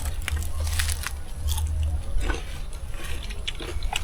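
Crunchy food is bitten and chewed at a meal outdoors under a mango tree, with several crisp crunch bursts over a steady low hum and no talking.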